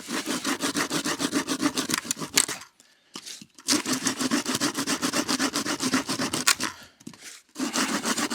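Folding saw cutting through wood outdoors in the woods, with fast, rhythmic back-and-forth rasping strokes broken by two short pauses. Close and fairly loud.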